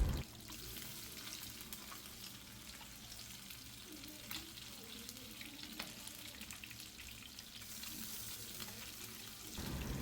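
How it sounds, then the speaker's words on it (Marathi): Mandeli fish frying on a flat griddle pan, a faint continuous sizzle with occasional small clicks as the pieces are turned with tongs. "मांदेली एक साईडने व्यवस्थित फ्राय झालेली आहे"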